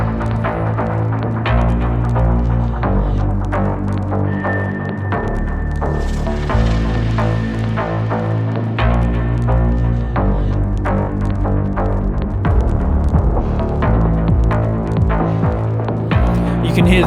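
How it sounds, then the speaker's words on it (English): The breakdown section of an electronic track plays loud and dense, with pulsing, throbbing bass tones, steady rhythmic hits and a sustained high synth line drifting over the middle. "And this is our breakdown section."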